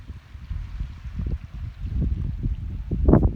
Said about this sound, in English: This is just fording Washakie Creek.